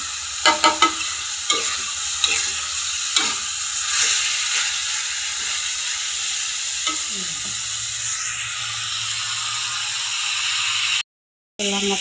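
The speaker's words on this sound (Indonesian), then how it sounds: "Kali ini jamure wis mulai tak tumis guys." Jamur janggel mushrooms stir-fried in a pan with sliced chilies: steady sizzling hiss with scraping stirs, a few sharper clatters early on, and a brief cut to silence near the end.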